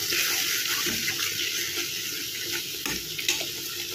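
Spice paste that had been mixed with water sizzles steadily in hot oil while being stirred for a boal fish curry, a continuous bright frying hiss with soft scraping, close and alone without talk.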